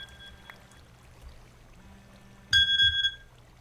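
A short electronic timer alarm goes off in a Minecraft modpack game, a bright beeping burst lasting about a second over a quiet background hum.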